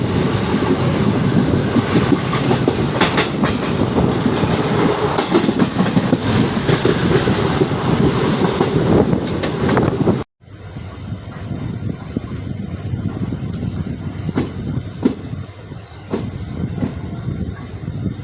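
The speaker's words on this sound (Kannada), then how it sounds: "ಯಶವಂತಪುರ ಮಂಗಳೂರು ದಸರಾ ಸ್ಪೆಷಲ್ ಎಕ್ಸ್ಪ್ರೆಸ್ ಬಂದೈತ್ರಿ ಈಗ ಕಬಕ ಪುತ್ತೂರು ರೈಲ್ವೆ ಸ್ಟೇಷನ್" A Yeshwantpur–Mangalore Dasara Special Express train runs steadily with loud, continuous rumble and rail noise, then a brief cut leads into quieter rolling with scattered clicks of wheels over joints.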